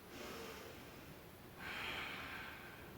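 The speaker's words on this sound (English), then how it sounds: "Breathing deep in this side body stretch." Deep, slow breathing during a yoga side-body stretch: one faint, soft inhale and exhale, audible close up in a quiet room with no talking.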